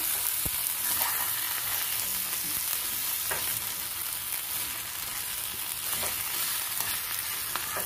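A pan of cauliflower frying in oil sizzles with a constant, dense crackling hiss, close and even throughout, with a few faint stirring knocks and no talking.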